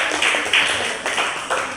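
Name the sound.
class applause, clapping hands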